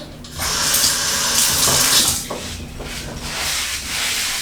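Water runs steadily from a tap into a sink or container as a little extra is added to a hair styling product, a continuous close hissing flow that swells and eases slightly, with no talking.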